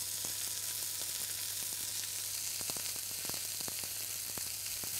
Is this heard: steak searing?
yes